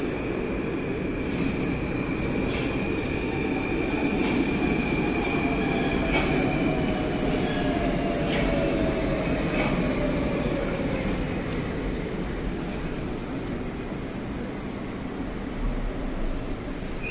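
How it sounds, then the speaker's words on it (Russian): Moscow metro train on the Big Circle Line pulling into a station: a steady low rumble of rolling wheels and car noise fills the whole stretch, with faint high whines and a slowly falling tone as it brakes, no talk. "Это в мою сторону поезд приехал."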